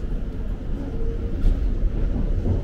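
A London passenger train runs toward Watford Junction, heard from inside as a steady, loud, continuous rumble and rattle of wheels and carriage with no speech.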